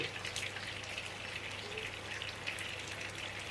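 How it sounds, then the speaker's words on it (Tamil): Marinated prawns frying for prawn 65 in hot oil, a faint, steady crackling sizzle that holds evenly throughout with no voices. "இப்போ நான் வறுத்துட்டு இருக்கேன்"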